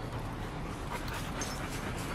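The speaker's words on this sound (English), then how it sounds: "Look at those dogs." Puppies give faint whimpers and soft panting, mixed into a constant hiss of background noise.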